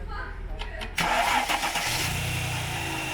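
A rally car engine, prepared for the Silk Road Rally, cranks and catches at about one second, then settles into a steady low rumble as it runs, with people talking nearby throughout.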